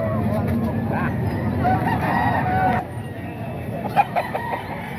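A rooster offered for sale at the Baliwag tiangge market in the Philippines crows in a loud, stretched call, ringing over a dense, steady din of nearby crowd chatter and market bustle, then a few short sharp clucks.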